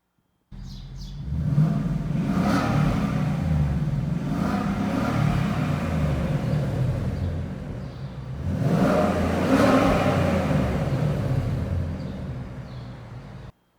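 A 2019 Ford Mustang GT with active exhaust revs loudly up close, two long throaty swells of engine roar with a steady rumbling idle between them.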